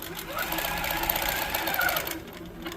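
A quilting sewing machine stitches out a marked panel row with a steady, fast mechanical whir and rhythmic needle clatter, close and continuous before easing off near the end.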